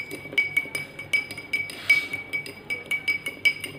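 A spoon stirs salt into water in a glass, clinking against the sides in quick, regular ringing taps, close and clear against a quiet room, with no one speaking.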